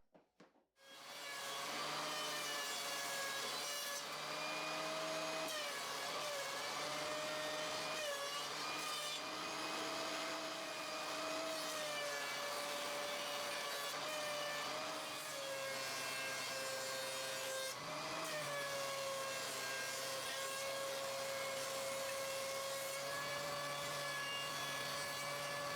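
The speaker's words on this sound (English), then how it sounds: "I'm ripping a piece of 1/4 inch MDF at 16 by 16 inches" A power saw rips a 16 by 16 inch piece of 1/4 inch MDF, giving a steady, loud, close whining roar that runs almost the whole time after a quick start-up.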